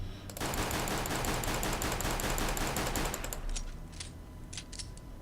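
Sustained rapid automatic gunfire in Counter-Strike: Global Offensive, aimed at a wall, rattles loudly for about three seconds, then trails off into a few scattered sharp shots and quieter clicks.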